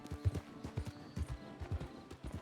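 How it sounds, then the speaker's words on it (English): Horse hooves clip-clop at a steady walking rhythm, heard as soft, muffled repeated knocks that are faint and close by, with no talk over them. "Ghost horse."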